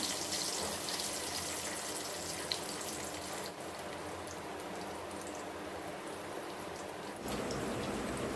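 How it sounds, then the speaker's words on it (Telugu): Chopped green chillies and onions hit hot oil in a pan and sizzle steadily, a continuous close crackling hiss filling the clip with no talk, easing slightly midway before swelling again. "ఆయిల్ వేడెక్కింది ఇప్పుడు కట్ చేసుకున్న పచ్చిమిర్చి ఉల్లిపాయలు ఆయిల్లో వేసుకుందాం"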